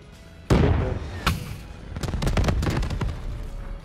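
Gunfire from the video game Black Ops 3: sharp loud shots, one at the start, another a moment later, then a rapid cluster of bursts, close and dominant with no talk over them.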